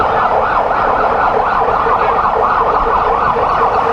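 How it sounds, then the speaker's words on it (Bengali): Ambulance siren wailing loud and steady throughout, near and continuous, at an airport during an aircraft fire emergency, with faint road vehicle noise beneath. "আমরা দেখতে পাচ্ছি আইসিইউ অ্যাম্বুলেন্সে করে পাঠানো হচ্ছে"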